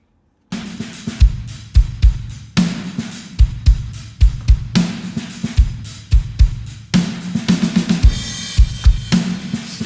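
Post-rock drum tracks mixed together: punchy kick and snare hits with ringing cymbals in an irregular pattern, loud and close, starting after a brief silence, no talk.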